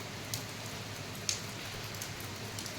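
Heavy rain falling in Bhadrak district, a steady faint hiss of drops with a few sharper patters, alone with no voices.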